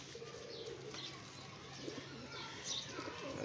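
Soft cooing of a pair of pigeons, mixed with faint chirps and a light flutter of wings, steady low background, no talking.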